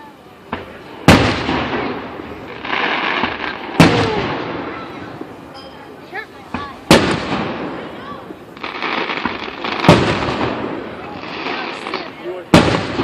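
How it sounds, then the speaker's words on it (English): Loud Fourth of July fireworks over Canonsburg, a series of sharp bangs every few seconds with crackling tails and smaller pops, while voices chatter in the crowd. "Come on, watch the fireworks."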